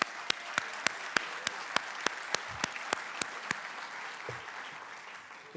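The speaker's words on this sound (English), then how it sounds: "I want to give them a big shout of applause for thank you for that." A crowd at a chamber of commerce annual awards celebration applauds a longtime event sponsor, a steady bed of clapping with sharp, evenly spaced individual claps cutting through close by.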